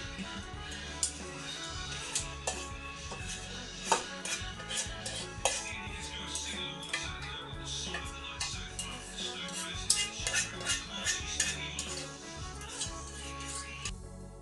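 Sausage casserole being stirred in a pot, with scraping and clinking of a utensil against the pot, scattered soft taps and a steady background hum running throughout.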